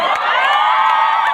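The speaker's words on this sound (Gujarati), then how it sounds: "એકવાર જોરદાર તાળીઓ થઈ જાય" A college audience in Surat cheers and whoops loudly for their teachers and principal, a dense, continuous burst of crowd noise with no pauses.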